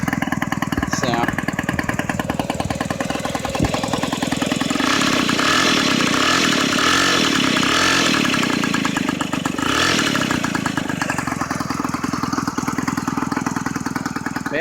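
A 49cc mini chopper motorcycle styled like a Harley idles close by with a steady, buzzy rumble that holds through the whole stretch without pause.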